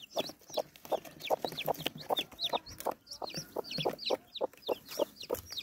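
A hen clucking alongside newly hatched chicks, with a late black chick just emerging from its egg, in a rural Turkish farmyard; rapid high peeps overlap repeated low clucks, close and continuous, with no talk.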